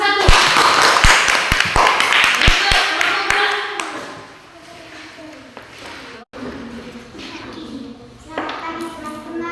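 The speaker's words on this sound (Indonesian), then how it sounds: "tepuk tangan untuk kelompok 1" Students in a classroom clap for a student group, a loud burst of scattered claps over the first few seconds that fades into quieter room sounds and talking.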